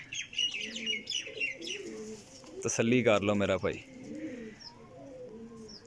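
Pigeons for sale coo softly nearby amid occasional chirps, while someone talks over them.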